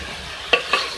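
Round-cut bottle gourd with tomatoes and salt is stirred in a pan with curry leaves. Two quick, close scrapes of a spoon sound over a faint background sizzle.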